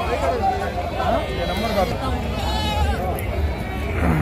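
Goats and sheep bleat again and again at a busy Friday livestock market in Gudur, loud and close. People talk and call out constantly over a noisy crowd.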